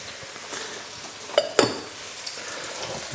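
Leeks and onion sizzle in melted butter in a pan for leek and potato soup, a soft, even frying hiss broken by a few sharp clinks of utensils against the pan.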